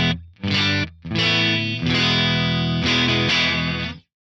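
Clean, jangly electric guitar from a YJM Strat through an Axe-Fx III Brit JM45 amp model with a Greenback cab, several chords strummed in separate bursts, then a longer ringing passage, loud and close with no talking.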